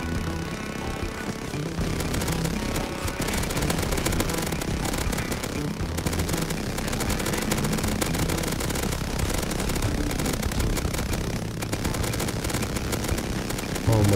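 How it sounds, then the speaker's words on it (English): Minigun firing continuously in the Rust video game while attacking the Bradley tank, a dense unbroken roar of rapid shots that stays loud for the whole stretch. "now we're gonna try and take Bradley with a new minigun"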